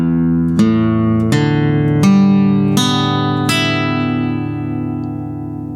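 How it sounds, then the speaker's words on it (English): Harmonics on a stringed instrument ring out as five bright, chiming plucked notes at a steady pace, each attack sustaining and overlapping the next, alone and close. "Let me play some more for you."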